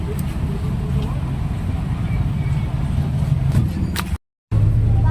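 A jeepney ride on a road with traffic, its engine and road rumble steady and close, people talking faintly over it, with a brief dropout near the end.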